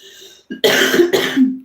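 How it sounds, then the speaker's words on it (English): A single close cough rings out clearly on its own, preceded by a faint throat sound and a brief pause, with no talking over it. "Excuse me for any and all coughs."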